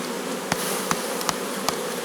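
Honeybees from a Miniplus split being moved into a Dadant 10 hive buzz steadily and close by, a dense continuous hum broken by a few sharp knocks at irregular intervals.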